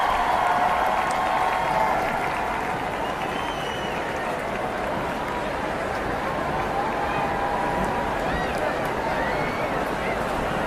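A large outdoor crowd cheers and applauds in a continuous roaring wash as the royal family waves from the palace balcony at the UK King's coronation, steady and distant, with hubbub throughout and a commentator's voice mixed in.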